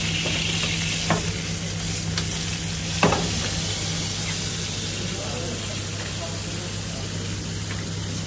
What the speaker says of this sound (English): Just 2 minutes in the fry pan with very little oil.